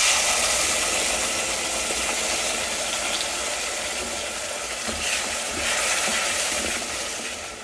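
Tomato puree with ginger and spices sautéing in a pan for a no-onion, no-garlic bottle gourd curry: a steady, fairly loud broadband sizzle with soft stirring scrapes throughout, no talk.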